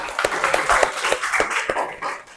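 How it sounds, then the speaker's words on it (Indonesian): Classroom students clapping after a student presentation, a short burst of scattered hand claps close by with some murmuring voices mixed in. "Oke, tepuk tangan semuanya."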